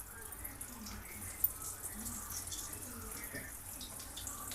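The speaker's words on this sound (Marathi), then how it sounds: "तेल गरम झाले तर आपण वड्या त्याच्यात टाकून घेणार आहे." Bottle gourd vadi pieces deep-frying in hot oil give a steady, close crackling sizzle with small pops, and a voice talks over it.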